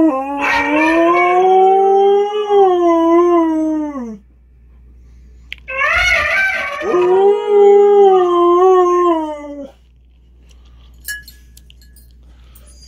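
A dog howls in two long, loud, wavering bouts separated by a short pause, close and clear, with a low steady hum underneath and faint clinks at the end.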